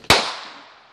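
A single 12 gauge shotgun blast fired outdoors at a target box, one sharp loud report with a long echoing decay and a faint second thump at the end, no voices.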